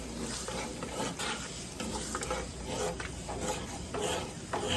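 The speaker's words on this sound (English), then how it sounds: "So I'm gonna let this saute a little bit." Spaghetti sauce ingredients sauté in a pan, giving a steady sizzle broken by repeated stirring scrapes and light clinks of utensil on pan, close by.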